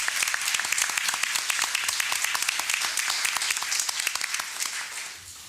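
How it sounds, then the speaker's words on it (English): A school board meeting audience gives library volunteers a round of applause: crisp, fairly distant clapping from a modest crowd, steady throughout before thinning out at the end. "we're still going to give Ms. Polliard and their Nansen Parkway Library a round of applause for all their help"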